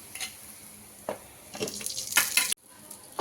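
Brinjal slices frying on a hot tawa: bursts of sizzling and crackle rise and fall in short waves, loudest near the end before cutting off abruptly, with no talking.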